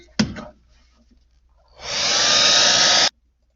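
A hair dryer switches on and blows steadily for about a second and a half to dry a watercolor painting, then cuts off abruptly, following a brief knock near the start.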